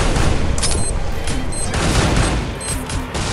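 Rapid gunfire in Free Fire during a Pakistani esports tournament, dense loud bursts of automatic shots crackling nearly without pause, with faint pinging tones mixed in and no clear talking.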